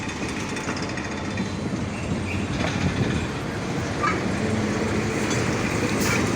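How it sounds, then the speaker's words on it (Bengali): The Nakshikatha train rake with its locomotive near the Saidpur railway workshop, a loud, continuous rumble of rolling wagons with faint rhythmic clatter, close by and steady. "লোকোমোটিভ ছেষট্টি সিক্স জিরো ওয়ান টু এটি সামনে যায় স্লো করবে"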